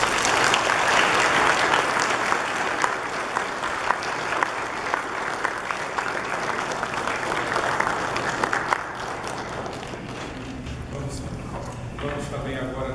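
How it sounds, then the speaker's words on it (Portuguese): A congregation applauds during a birthday celebration for a priest at Sunday Mass, the dense clapping loud at first and then thinning and fading toward the end, with a voice speaking late on. "Uma salva de palmas"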